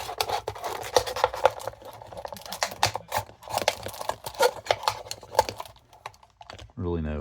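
Klaken J147 pocket knife with a D2 steel blade and linerlock puncturing and slicing through material, giving a run of close, scratchy cutting and tearing scrapes, with talking over it.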